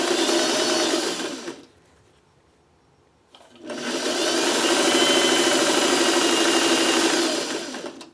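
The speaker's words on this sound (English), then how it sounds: "And I'm just going to sew right there." A sewing machine stitching quilt fabric for a wonky block, a steady fast mechanical whir in two runs separated by a two-second pause, close and loud.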